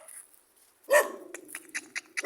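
A dog barks once loudly and close, then gives a string of shorter yips and whimpers, with no talking over it.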